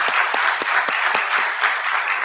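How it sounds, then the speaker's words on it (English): A conference audience claps steadily and loudly, a dense patter of many hands with no pauses throughout. "I just wanted to give a round of applause for all these people"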